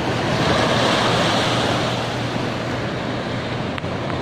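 Steady roar of surf rolling onto Pasir Putih Bira beach in Bulukumba, Sulawesi, continuous and fairly loud, with wind buffeting the microphone throughout.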